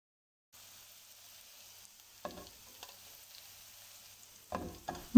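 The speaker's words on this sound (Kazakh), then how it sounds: "Үстінен ұсақталған сарымсағымызды саламыз да қуырамыз." Chopped garlic with sweet and hot peppers frying in vegetable oil in a pan, a soft steady sizzle with a few louder crackles and stirring clatters near the end.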